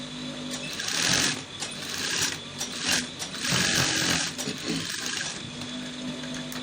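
A sewing machine runs in steady bursts while stitching joggers or sweatpants around a notched seam, its rapid mechanical whir rising and pausing several times, close and fairly loud with no talk.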